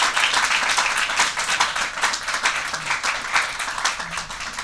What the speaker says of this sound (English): let's give a round of applause for Richard Viguerie